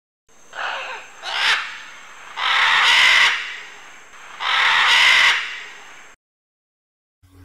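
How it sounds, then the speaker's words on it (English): Three loud, harsh parrot screeches follow a short opening squawk, each burst raspy and bright, the series ending in silence. "Parrot."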